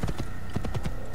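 Horse hooves clip-clop steadily at a riding pace in Assassin's Creed, a close, even rhythm of muffled thuds with no talking.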